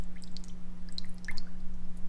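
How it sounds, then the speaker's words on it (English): Water splashing and trickling from the outlet of a Marineland Magnaflow 220 canister filter into an aquarium, a steady close-up patter of small drips and splashes over a constant low electrical hum. "Gives a little more splash effect."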